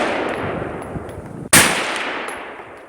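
A 10.3-inch 5.56 AR rifle fitted with a Dead Air Sandman-K suppressor fires one sharp, loud shot midway, with a decaying echoing tail before and after.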